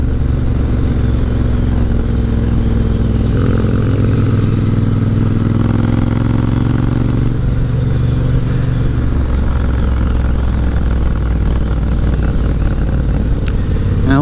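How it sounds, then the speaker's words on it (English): A Triumph Bonneville twin fitted with British Customs aluminum exhaust tips, rumbling at close range while cruising along the coast, with a deep steady exhaust note and a rise in revs partway through, loud and constant. "I get a lot of compliments on the sound of my bike."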